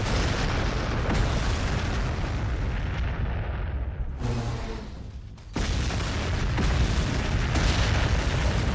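Tank artillery in Warhammer 40k: Gladius fires in a dense, continuous barrage of booming shots over a roaring bed, with a short lull near the middle before the pounding resumes.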